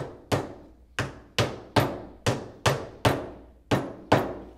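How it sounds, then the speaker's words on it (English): Ten sharp hammer taps seating cabinet door hinges land at a steady, even rhythm, each a crisp close knock with a brief decay, no voices. "take your basic Ford wrench here, or a hammer I call it, and tap these into place"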